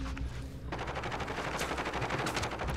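Rapid automatic gunfire in Call of Duty Modern Warfare Warzone, a dense burst of shots fired in quick succession, loud and close, with no talking.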